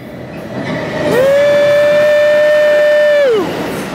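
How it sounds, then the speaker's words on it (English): An Amtrak passenger train passes Surf Beach, California, its loud horn sounding one sustained blast of about two seconds over the steady rumble of the rail cars. "There's the Amtrak, baby."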